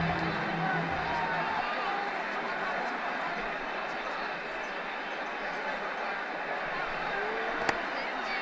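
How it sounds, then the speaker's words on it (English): Stadium crowd in the Ashes Cricket 2009 video game, during a New Zealand vs England match: continuous, fairly loud roar and hubbub of spectators cheering after a boundary shot, steady throughout. "The crowd really enjoyed that one."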